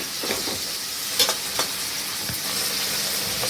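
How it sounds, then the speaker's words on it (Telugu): Onions fry in a pan for a goat head mutton curry, a steady close hiss and crackle of sizzling oil with occasional spoon scrapes and taps as they are stirred. "ఇవన్నీ బాగా దగ్గరగా ఫ్రై చేసుకోవాలండి, బాగా రెడ్ కలర్ వచ్చేంత వరకు వేగనివ్వాలండి."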